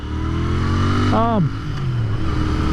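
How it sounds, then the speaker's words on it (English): Royal Enfield INT 650 motorcycle with stock exhaust, a steady engine drone broken by one quick rev that climbs and drops back, close and loud under the ride. "This has stock exhaust on it, so I can't complain about the sound."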